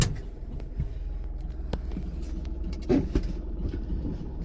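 A car rolls along with a low, steady engine rumble and road hum from inside the cabin, a couple of faint knocks breaking the even drone.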